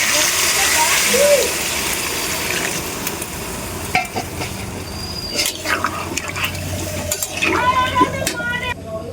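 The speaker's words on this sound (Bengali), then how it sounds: "এবার আমি ঝোলের জন্য যে জলটা থাকে ওটা দিয়ে দেবো" Water is poured into a pan of fried taro for a tilapia fish curry, a steady splashing fill over the sizzle and scrape of stirring, close and fairly loud throughout.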